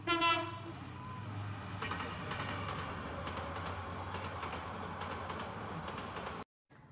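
A train rumbles past at a steady distance with rhythmic clatter, preceded by a brief loud tonal burst, then cuts off abruptly at the end.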